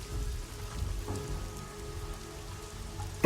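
Rain falling, a steady patter of drops on surfaces with occasional louder splats, continuous and moderately quiet, heard on its own without talk.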